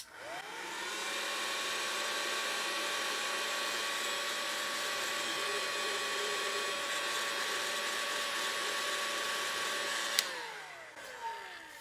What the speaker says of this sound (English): I'll use a blow dryer to just sort of stiffen up some of the clay in there